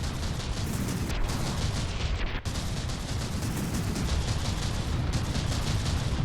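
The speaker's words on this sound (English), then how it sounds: "I wonder how it is with these mortars." Dense, continuous barrage of naval gunfire from a battleship fight in a sea-combat building game, rapid overlapping booms and crackles rolling on without a break, with one brief dip partway through and no talking.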